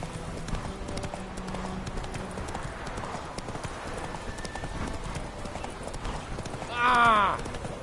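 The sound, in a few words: horse Roach galloping in The Witcher 3 video game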